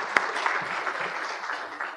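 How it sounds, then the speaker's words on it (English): Fairly faint, scattered applause from an audience at a storytelling talk, with one sharp clap standing out at the start and lighter clapping continuing under a murmur of voices. "Big round of applause"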